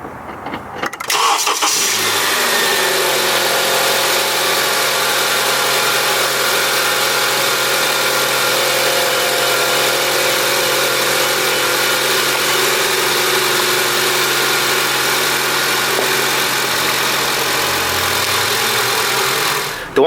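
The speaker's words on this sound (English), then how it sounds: "now the light is green, so I can begin jump starting the vehicle" A car engine cranks and catches after a jump start from a Suaoki G7 600A portable jump starter, then runs at a loud, steady idle close by for about eighteen seconds before cutting off.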